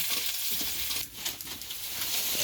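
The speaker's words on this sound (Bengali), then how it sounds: "এখন একটু নাড়াচাড়া দেবো পেঁয়াজে" Onions frying in oil in a pan, with a steady bright sizzle and a few scraping stirs partway through, close and continuous.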